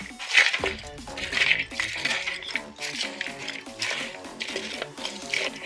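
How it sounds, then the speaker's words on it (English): Chicken wings being tossed in sauce in a bowl with a utensil, producing repeated rhythmic clinks and knocks against the bowl and soft wet slaps, close and moderately loud, with no talking. "Let's give this thing a good mix."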